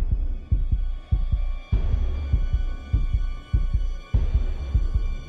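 A heartbeat pulses through a film score track, about two deep thuds per second in a steady rhythm over a faint sustained tonal hum, with no voices.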